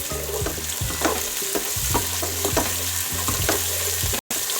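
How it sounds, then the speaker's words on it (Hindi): Ginger-garlic paste frying and being stirred in a pan for aloo chicken shorba, a steady close sizzle broken by repeated scraping strokes of a spoon, with no talking. "अब हम इसको हल्का सा फ्राई करेंगे, सोते करेंगे।"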